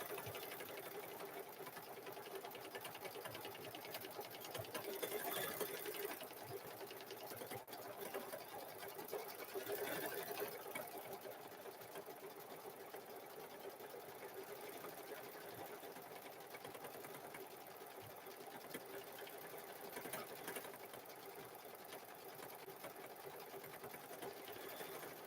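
Sewing machine loop quilting a cow-pattern quilt, a continuous fast mechanical whir and needle clatter, steady and close throughout with slight surges in pace.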